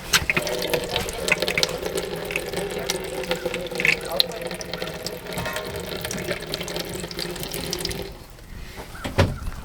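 Water runs from household faucets fed by a failing water pump, giving a weak, steady hiss with clinks and small knocks, then cutting off near the end.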